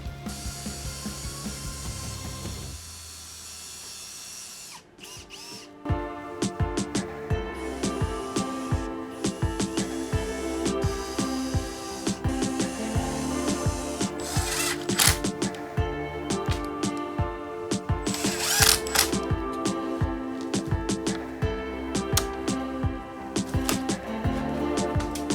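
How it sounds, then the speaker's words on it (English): Power drill boring and countersinking holes in a wooden part of a life-sized Halo: Reach turret build, close and loud, with repeated bursts of whirring and grinding separated by brief pauses and handling clatter. "we're just going to drill a few more holes and countersink them as well, just to hold everything together"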